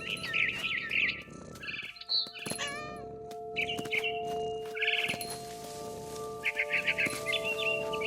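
A barn swallow chirps in What Remains of Edith Finch, quick high twittering bursts that repeat through the scene over a low ambient hum, close and moderately loud, with soft game noises in between.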